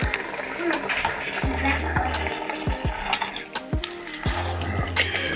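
Chunky applesauce apples cooking down in a pot, with repeated spoon scrapes and clacks against the pot over a low simmering bubble, close and fairly loud.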